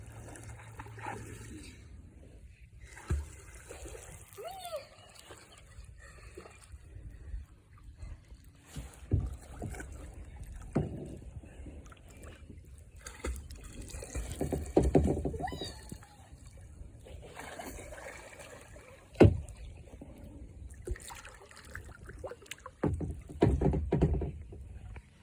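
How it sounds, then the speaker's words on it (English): A kayak paddled through water by hand, with scattered soft splashes, trickles and sloshing at close range over about 25 seconds, several louder splashes standing out, and faint voices at times. "Paddle with your hands."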